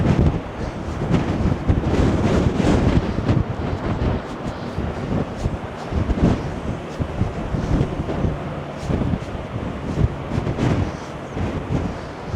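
Strong gusts batter the microphone on the Blackpool promenade, a loud, continuous buffeting roar that rises and falls through the whole stretch, with a rushing sea-like wash underneath and no voices.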